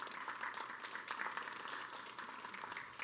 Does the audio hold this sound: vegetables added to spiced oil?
no